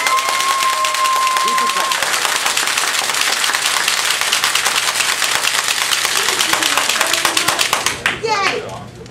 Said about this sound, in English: let's give me a round of applause